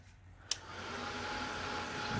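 A hair dryer blows over freshly applied oxide ink, starting after a short click and running as a steady, close whooshing hum that grows slightly louder.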